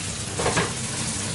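Close, even sizzling of chicken legs browning in a pan, with a faint clink of utensils partway through.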